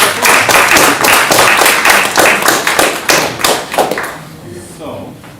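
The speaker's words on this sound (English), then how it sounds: "Let's give a big round of applause." An audience at a game history seminar at the Finnish Museum of Games claps in a burst of applause that thins out and fades over a few seconds.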